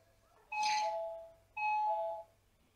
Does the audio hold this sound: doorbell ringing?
yes